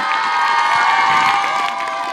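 A crowd at a youth football club's award ceremony cheers and whoops loudly, with high children's shouts and some clapping in a continuous roar.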